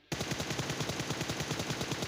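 Rapid automatic gunfire from the video game PUBG Mobile rattles in a fast, steady burst of evenly spaced shots lasting about two seconds, loud and alone.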